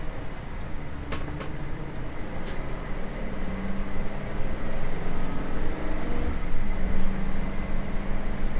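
A 2019 Coachmen Mirada 32SS Class A motorhome cruising on the road, with a steady low rumble of engine and road noise and rattling cabin sounds that grow slightly louder over the stretch, and no voices.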